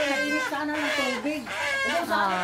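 A chicken just caught on a farm squawks and clucks loudly and continuously at close range, its agitated calls rising and falling without pause.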